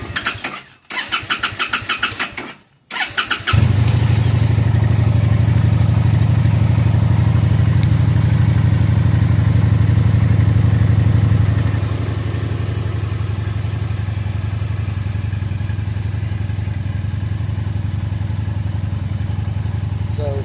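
Engine of a 2017 Honda Phantom motorcycle cranks and fires up after sitting in a barn on fresh fuel, a brief choppy start then a steady low rumbling idle that settles slightly quieter, close by.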